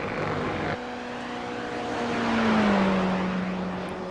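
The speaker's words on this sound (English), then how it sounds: "Group A cars out on the field now. Let's have a listen." Group A roadster race cars lap Spa in a racing video game: a continuous engine drone that swells as a car closes in, then a clear pitch drop as it passes close by.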